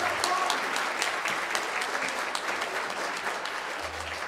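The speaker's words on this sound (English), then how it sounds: "I'd like to ask you all to give a round of applause," A school audience at a high school winter jazz concert applauds steadily, a dense, even wash of clapping that holds at a fairly strong level throughout with no talk over it.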